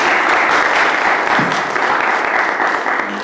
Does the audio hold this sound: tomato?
no